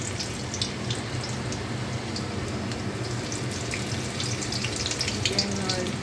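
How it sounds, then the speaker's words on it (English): Garlic sautéing in a heavy-bottomed pan for a creamy chicken dish, a dense, even crackling sizzle with brief spattering pops, continuous and close throughout. "I am just going to saute the garlic"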